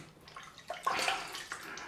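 Water is squeezed from a shaving brush, giving a few faint, quiet splashes and soft dribbles against a hushed bathroom background.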